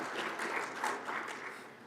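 A crowd claps steadily, dense applause that holds at an even level throughout and fades slightly at the end.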